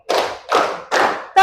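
A classroom of students claps together in a call-and-response chant, giving three evenly spaced, loud group claps, with a fourth just starting at the end.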